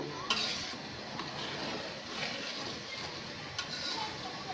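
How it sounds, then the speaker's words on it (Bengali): Spice paste for a Bangladeshi raw mango pickle being stir-fried in a pan, a steady low sizzle with soft scraping strokes and a few faint clinks running throughout. "মশলাটাকে ভালো করে আমি কষাবো।"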